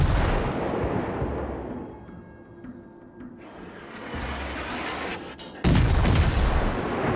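Cruiser in World of Warships firing armor-piercing shells: booming artillery salvos with rumbling tails, a heavy blast early and another loud report near the end, mixed with game ambience.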